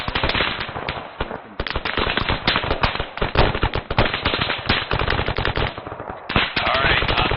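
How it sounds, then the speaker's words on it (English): Loud, close automatic gunfire from rifles and machine guns during platoon infantry training, laid down as suppressive fire in dense, rapid bursts with only brief pauses throughout. "Let's put some suppressive fire on these contacts of this west-northwest"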